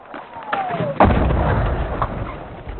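An incoming mortar round lands with a heavy close blast after a brief descending whistle, followed by rumbling debris and a second thud, with voices shouting around it.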